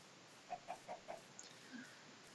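Minecraft chickens in a mountain area give a quick run of four soft clucks, then a fainter one, all quiet and slightly distant against near silence.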